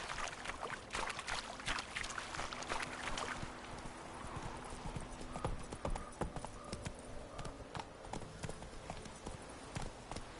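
Roach, Geralt's horse in The Witcher 3, gallops with a steady stream of close hoof clops over quiet game ambience, lasting throughout.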